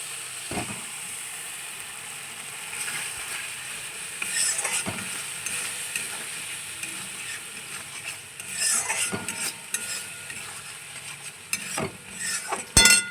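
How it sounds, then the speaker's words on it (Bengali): Ground spices soaked in a little water being stirred and sautéed in a pan for navratan paneer, with a faint sizzle under intermittent spatula scrapes and clacks against the pan, growing busier toward the end. "এটা আমি এর মধ্যে দিয়ে দেবো দিয়ে ভালো করে কষিয়ে নেবো"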